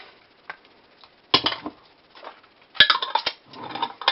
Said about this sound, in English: Because we've got to stir it, we need a fork.